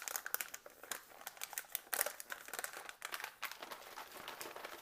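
Crinkly plastic of an MRE cold-weather meal pouch (chili macaroni) being sealed and folded over, a close, busy run of crumpling rustles and crackles lasting several seconds with no talking.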